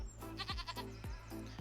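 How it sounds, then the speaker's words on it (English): Baby goats in the Farming Simulator 25 video game bleat several times in quick succession, short quavering cries over a steady low background hum, moderately quiet. "go all mushy over computer game baby goats"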